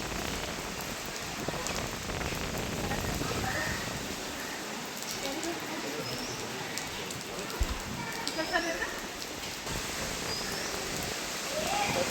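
Steady monsoon rain pours across the Kanakumbi and Jamboti area of Karnataka, a dense continuous hiss of drops on surfaces that holds fairly even from start to finish, with a few sharper splashes around the middle.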